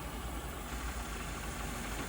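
A MAS VR-4 radial drilling machine, Czech-built with 50 mm capacity, runs its spindle at a maximum 2000 RPM, giving a faint, steady mechanical hum with no change over the short stretch.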